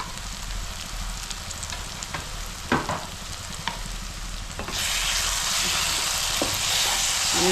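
Turmeric, salt and chili powder being stirred into hot oil in a pan for a potato curry, a steady sizzle with a few scraping strokes of the spoon, the frying growing louder and brighter partway through; no talking.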